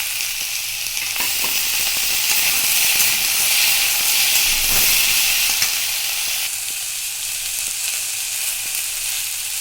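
Chopped green chili and tomato going into hot oil for fish curry, giving a loud, continuous bright sizzle and hiss with a few faint stirring clicks, heard alone.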